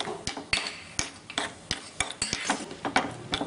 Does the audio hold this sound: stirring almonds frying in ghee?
yes